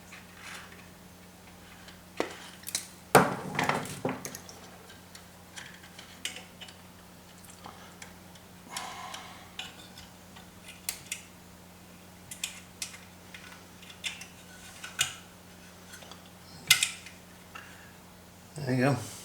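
Wire cutters snip wire meant for the filaments of a two-band regenerative radio build. A few sharp clicks stand out over quiet handling noise and a low steady hum, with the loudest snaps near the start and end.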